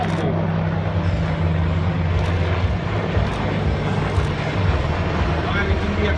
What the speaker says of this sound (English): Piloting the Apache attack helicopter is Major Spencer Love